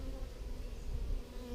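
Honeybees crowd several deep on a hive comb during an inspection, producing a dense, continuous low buzzing drone, close and steady throughout.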